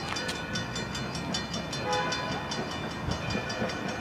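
A steam locomotive triple header chugs along, a continuous heavy rumble marked by a quick, regular beat of exhaust chuffs at moderate distance, with no voices.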